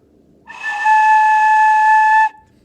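A single clear flute tone, blown straight across the embouchure hole, sounds for about two seconds, breathy at the onset, then steady and pure before stopping abruptly.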